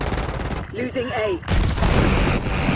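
Call of Duty Warzone firefight with dense bursts of gunfire and booms, loud and continuous apart from a brief lull, with a radio-style voice speaking partway through.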